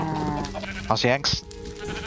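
Sheep bleat in a Minecraft Sevtech Ages modpack game: a couple of wavering, nasal bleats rise in the middle of the clip, mixed with a player's voice and ongoing game background sounds.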